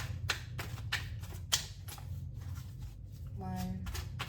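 Tarot cards are shuffled by hand in quick, irregular bursts of riffling and tapping, close and fairly quiet, with a brief faint voice near the end.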